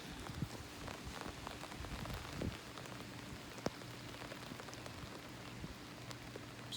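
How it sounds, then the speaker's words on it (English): Steady rain falls outdoors near trees, a dense, even hiss of drops on surfaces with occasional louder nearby drips, continuous and moderately loud throughout. "It's raining pretty good right now."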